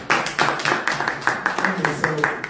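Audience at an investment meet-and-greet training event in Toronto claps in a steady, moderately loud rhythm of distinct hand claps, with some voices underneath.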